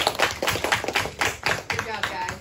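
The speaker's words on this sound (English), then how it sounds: "Let's give them one more round of applause." Audience applause at a school awards ceremony for honor roll students, a fairly close, irregular patter of clapping that keeps going throughout, mixed with voices talking over it.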